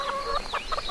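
Chickens cluck close by on a small Filipino farm, several birds calling in quick, overlapping bursts with no talking.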